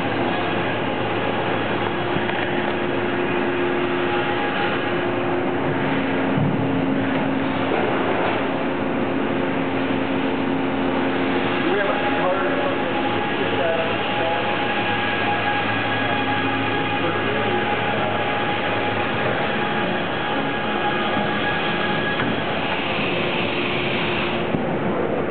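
A 1996 Haas VF4 CNC vertical milling machine runs steadily in a shop, a continuous mechanical hum and whir with faint tonal whines, unchanging throughout.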